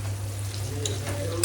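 Shrimp sizzle in hot oil in a pan, a steady frying hiss under a low hum, with occasional stirring clicks.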